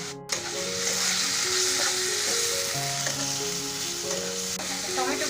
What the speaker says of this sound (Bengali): এবারে এটা আমি একটুখানি ভেজে নেব